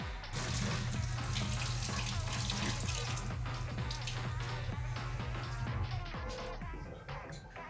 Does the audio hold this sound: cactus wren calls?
no